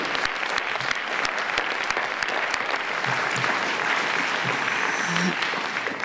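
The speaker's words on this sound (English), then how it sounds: "So let's applaud our sponsors and supporters for this evening" Audience applause at an evening community gala honoring sponsors and supporters, a dense steady wash of many hands clapping throughout, loud and sustained.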